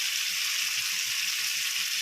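Cumin seeds, fenugreek and tomatoes fry in hot oil in a pan, giving a continuous dense sizzle and crackle at close range, steady for the whole stretch with no talking.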